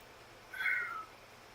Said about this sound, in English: That's my cat screams.